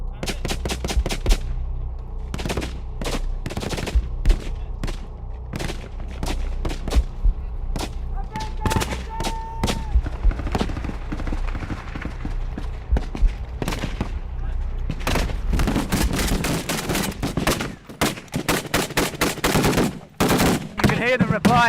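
Gunfire exchange between Iraqi Shia militia fighters and ISIS near a farmhouse, with rapid machine-gun bursts and single shots cracking throughout, some close and loud, others farther off, with voices in the background.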